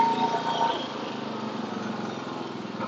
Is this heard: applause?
no